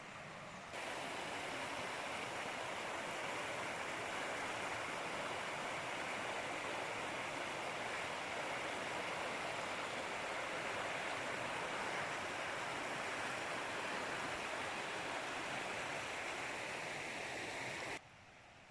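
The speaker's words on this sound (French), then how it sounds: "il y a carrément des cascades" Water pouring down waterfalls and cascades on a mountain river in the Aude, a steady broadband rush that stays loud and continuous throughout, with no voices.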